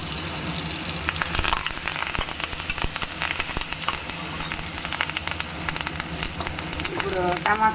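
Fenugreek powder, asafoetida and curry leaves fry in hot oil for a Chittoor-style curry tempering, giving a loud, continuous crackling sizzle with dense popping spatters, close and steady throughout.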